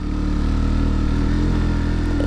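Motorcycle engine labouring in first gear on a steep uphill road with a history of accidents, a steady loud low-pitched drone with strong harmonics throughout, continuous and close, no talk.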